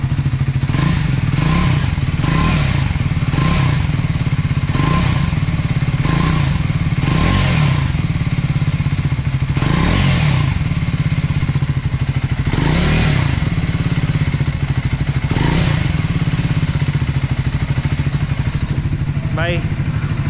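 A Triumph Scrambler 400 X motorcycle engine idles steadily, then is revved in repeated loud bursts, rising and falling several times with a brief clatter, close by after its second service.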